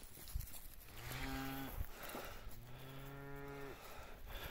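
Calves on a village farm mooing, two drawn-out bellowing moos close by, the second longer and wavering, over faint outdoor background noise.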